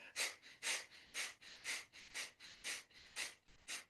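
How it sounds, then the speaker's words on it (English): Rhythmic nasal breathing in and out through the right nostril during a yoga pranayama practice, about eight soft, airy breaths in steady succession, close and quiet with no talking. "Breathing in and out through the right."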